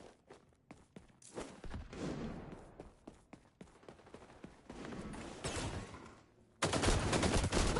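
Shotgun fire in a video game, with loud irregular blasts and bursts scattered among footsteps and thumps, ending in a sustained loud burst of noise.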